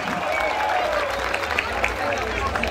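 Crowd applause at a mayor's New Year's Eve celebration in Aguiarnópolis, Brazil: a steady wash of clapping from a large gathering, mixed with crowd babble and some voices throughout.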